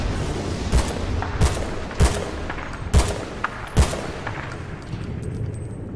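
Gunfire in the Battlefield: Bad Company 2 video game, five loud single shots spaced evenly about a second apart, each with a booming tail over a low ambient rumble.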